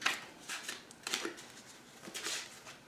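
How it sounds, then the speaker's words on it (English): An oversized Arcanum Tarot deck is shuffled by hand in a few quick riffling bursts, crisp papery flutters separated by brief pauses, close and clear with no talk. "I'm just going to give the Arcanum Tarot deck a quick shuffle"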